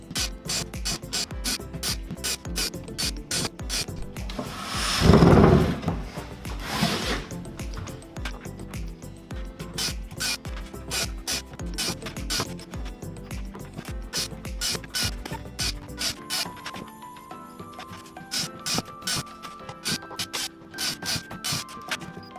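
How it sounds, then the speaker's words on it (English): Screws are driven into a wooden kart box, starting with the base, producing long runs of rapid, close ratcheting clicks and grinding with a brief louder scrape partway through, continuing without talk. "And now you can start screwing in the screws."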